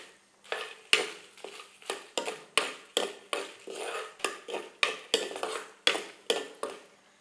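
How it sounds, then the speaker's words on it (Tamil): Asafoetida roasting in a little oil in a pan, stirred with a metal utensil that scrapes and clinks against the pan in a steady run of sharp, close strokes, with faint sizzling underneath. "லேசாக எண்ணெய் விட்டு அப்படியே வறுத்துக்கிறோம். இது பெருங்காயம், இதையும் சேர்த்து வறுத்துக்கிறோம்."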